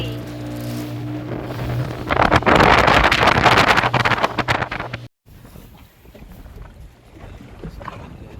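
A boat out on the sea during water sports at Malvan, its motor droning and hull slapping under gusty wind noise, loudest in the middle before dropping to a softer rumble.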